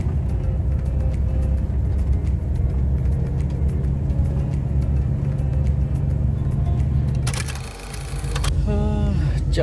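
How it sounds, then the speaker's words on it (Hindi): A heavy truck carrying a 40-ton load moves slowly on a European road, its cab filled with a constant low engine drone and road rumble, broken near the end by a brief burst of broadband noise and faint tonal sounds. "हाँ, 40 टन लोड लेके गाड़ी धीरे धीरे धीरे धीरे चल रही है।"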